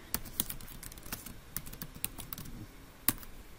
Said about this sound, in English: Make sure I type my name correctly.